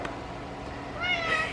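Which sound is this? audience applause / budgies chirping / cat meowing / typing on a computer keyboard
cat meowing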